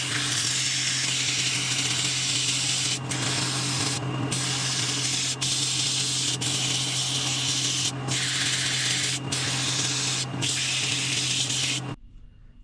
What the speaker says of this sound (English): Start sanding, 80 to 400.